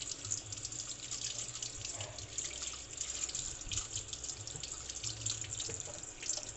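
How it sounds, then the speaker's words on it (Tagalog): Freshly picked green chillies washed under a running tap at a backyard sink, a steady close splash of water with faint dripping, no talk. "Hugasan muna natin yan"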